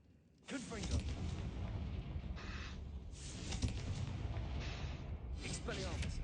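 Confringo fire spell explosion in Hogwarts Legacy, a sudden loud burst followed by a sustained roaring, crackling blaze with several swelling flare-ups, heard alone.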